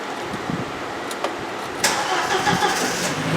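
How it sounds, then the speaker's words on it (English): A 2001 Volkswagen Passat engine cranks briefly and catches, rising into a steady running idle that stays loud and close after a sharp start about halfway through. "let's see if this car starts"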